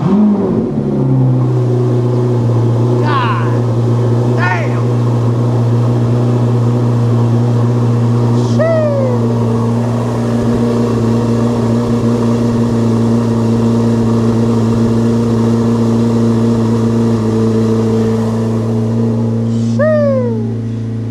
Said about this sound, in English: let's do that cold start on the C8 Zr1